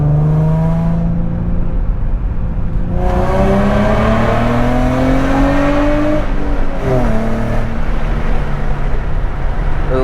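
Close-up exhaust roar from an Infiniti G35 coupe with ISR long tube headers, heard while driving. The engine rises and falls through gears in continuous loud revving drones, with no talk over it.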